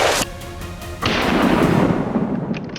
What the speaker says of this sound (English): A single shot rang out.